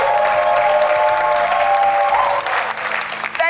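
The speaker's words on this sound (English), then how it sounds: "Let's clap for them." Studio audience applauding at the close of a finance career talk show, a dense steady wash of clapping that thins slightly near the end.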